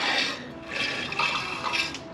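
Old, dirty oil drains through a hose from the crankcase of a Generac GP7500e generator, giving a soft liquid trickle with small gurgling bursts, close and faint, with no voices.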